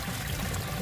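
Small waterfall on a river where koi live, its steady rushing and splashing water fairly loud and continuous with no voices.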